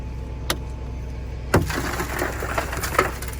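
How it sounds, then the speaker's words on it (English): Rescue tools break the window glass of a wrecked 2006 Honda Civic during a training exercise: sharp cracking impacts, one strong hit followed by a crunching, splintering shower of glass and a further snap, over steady background noise. "breaking glass"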